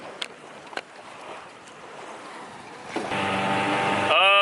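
A motorboat engine rises to a steady loud drone over rushing wind and water on Green Bay, Door County, growing stronger toward the end.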